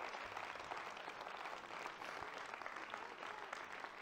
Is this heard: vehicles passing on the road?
no